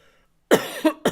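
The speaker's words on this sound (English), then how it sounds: "So I apologize for the coughing" A person coughs three times in quick succession after a short silence, sharp, close and loud bursts with a slightly rough, throaty edge.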